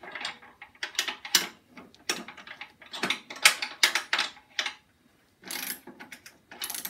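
A wrench ratchets a nut on a Snapper mower steering rack, quick clicking runs in short bursts with brief pauses between, close and fairly quiet.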